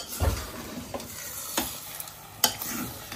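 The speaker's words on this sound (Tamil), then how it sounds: "மசாலாவோட சேர்ந்து நல்லா புரட்டும்" Meat stirred and fried with masala in a pan, a few scraping stir strokes with soft sizzling underneath, close and fairly quiet, no talking.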